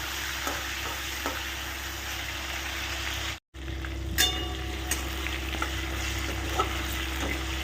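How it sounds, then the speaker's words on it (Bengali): Potato pieces fry gently in leftover fish-frying oil over a low flame, a steady soft sizzle with occasional light stirring taps and a brief break in the middle. "আলুটাকে আগে দিয়ে একটু ভেজে নেব পুরো লো ফ্লেমেই ভাজবে"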